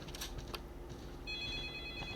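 A telephone rings in the Roblox horror game Specter, a thin high electronic trill that starts partway through over a background of thumps and low room noise.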